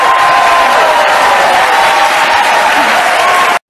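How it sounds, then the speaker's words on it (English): Thunderous audience applause mixed with crowd cheering, loud and continuous from start to finish before cutting off abruptly. "then you get thunderous applause in the audience"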